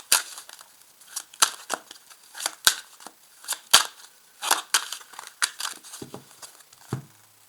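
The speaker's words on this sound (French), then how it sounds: "On va déjà faire une première découpe du paquet." A deck of tarot cards is cut and handled close up, giving a series of crisp snaps, shuffles and papery flicks in irregular bursts.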